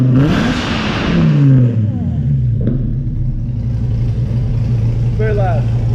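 Loud engine revving from a scale-model Dodge Viper ACR with an added wing, rising pitch sweeps and a steady roar under a voice talking over it.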